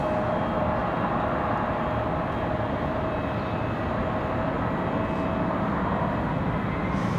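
A Boeing 737-800 airliner departing Raleigh-Durham for Denver, a continuous loud engine roar with a faint steady whine, unbroken and close for the full stretch.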